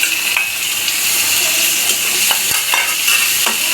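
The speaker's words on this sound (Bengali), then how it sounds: "এখন টমেটোটা দিয়ে দেবো।" Chopped tomato sizzles steadily in a hot frying pan for a noodle dish, with a continuous frying hiss and intermittent scrapes and taps of a utensil as it is stirred, close and fairly loud with no talking.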